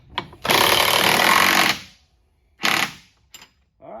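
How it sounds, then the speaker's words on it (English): Impact gun driving the mounting bolts of a 115 HP Mercury outboard, with one long buzzing burst of rapid hammering, then two shorter bursts separated by quiet gaps, close and loud. "This impact gun puts out some pretty big torque, and so I'm not killing it."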